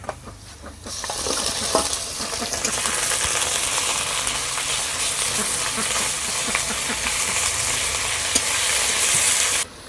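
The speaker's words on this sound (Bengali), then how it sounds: "আদা রসুন পেঁয়াজ একসাথে আমি ভালো করে কষাই নিছি।" Ginger, garlic and onion paste frying in a pan for a village-style chicken curry, a dense continuous sizzle with spatula scrapes and clinks against the pan.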